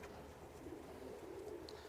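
Andalusian breed pigeons coo softly and steadily in a low, continuous murmur, with a faint chirp near the end and no talking.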